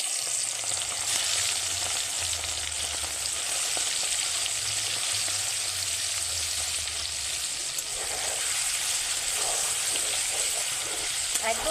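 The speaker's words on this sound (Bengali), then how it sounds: "এইবার একই তেলে লবণ হলুদ মাখানো চিংড়ি মাছগুলো দিয়ে ভেজে নেব।" Shrimp coated in salt and turmeric frying in plenty of hot oil, a loud continuous sizzle and crackle with occasional stirring scrapes, close and steady throughout.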